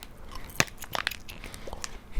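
Crunchy bites and chewing on a sour candy rope, a few sharp snaps then softer moist chewing, close to the mouth.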